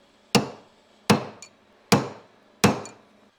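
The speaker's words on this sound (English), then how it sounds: "this is going to take me a few minutes to tap this the remainder of the way down" Four sharp metallic hammer blows tap a squared-off blunt-ended punch while working on a 1971 Cadillac Coupe DeVille drivetrain, evenly spaced with short ringing decays and one faint extra tick, close and alone.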